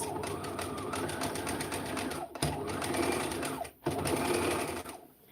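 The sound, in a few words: sewing machine zigzag stitching knitted fabric before cutting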